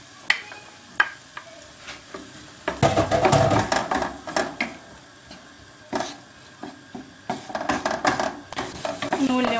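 Chopped olives sizzling and frying in a pan, with frequent scraping and clinking as a utensil stirs them against the metal.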